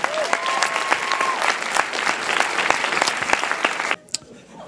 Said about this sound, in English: a round of applause for them for working so hard to entertain you